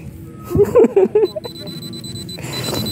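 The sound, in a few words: metal detector beeping over tin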